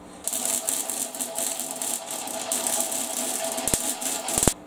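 A homemade 4x36 belt sander runs with a steady rattling drone and dense high buzz throughout, with two sharp knocks near the end.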